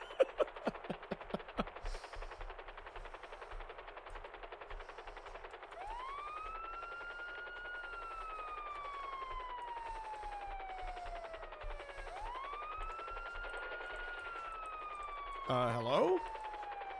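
A wailing police siren from Grand Theft Auto rises and falls in long sweeps, starting after a burst of rapid gunfire, with a brief louder noise near the end.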